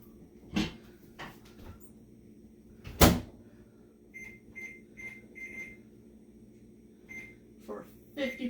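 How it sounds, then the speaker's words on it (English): A few short electronic beeps from a microwave keypad, set for 10 minutes at 50% power, with a sharp clunk of its door shutting and faint kitchen noise around them. "So we're ready to put it in the microwave for 10 minutes"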